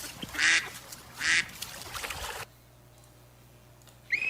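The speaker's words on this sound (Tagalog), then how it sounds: "Buhi nga pato." A live duck quacks loudly and close by in two bursts, then stays quiet before a final call at the end.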